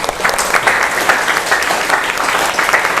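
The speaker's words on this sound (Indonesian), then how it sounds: "kita berikan aplaus untuk kelompok 2" Group 2 is rewarded with steady, dense applause from a classroom audience, the clapping sustained and moderately close for the full three seconds with no break.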